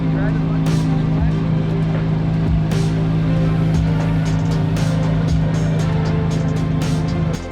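A new Corvette C8 Z06 sports car engine idles with a steady deep rumble, close by, while occasional clicks and clatter sound around it.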